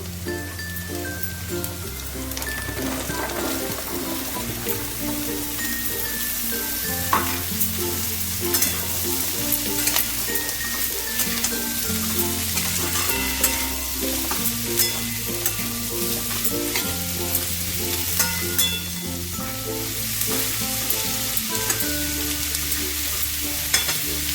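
Sweet pumpkin pieces fry with onions in a pan, giving a steady close sizzle with occasional stirring clicks, all under soft background music.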